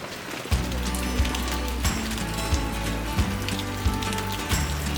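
Rain falls steadily in a garden, a dense, loud hiss of drops on surfaces with occasional heavier thumps and patters throughout, no voices.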